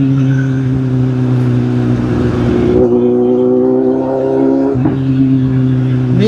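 A vehicle driven along a city road, engine drone steady with harmonic whine shifting in pitch as it accelerates, loud and close, passing traffic noise mixed in.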